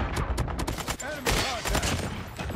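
Striker SMG firing in a video game, a rapid burst of gunfire with shots cracking in steady succession throughout, loud and close, with brief voice-like tones mixed in.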